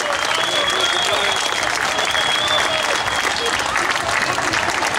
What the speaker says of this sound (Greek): Ένα δυνατό χειροκρότημα για το Σύλλογο Μικρασιατών Δήμου Νέστου η Αγία Φωτεινή.